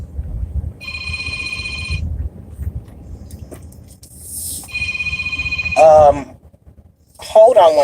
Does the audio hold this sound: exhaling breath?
no